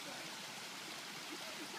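Cascade Waterfalls rushes in the distance, a faint, steady, broad wash of falling water with no pauses.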